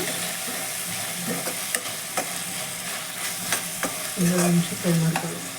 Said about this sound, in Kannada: ಇದೆಲ್ಲ ಮಿಕ್ಸ್ ಮಾಡಿ ಫ್ರೈ ಮಾಡೋಣ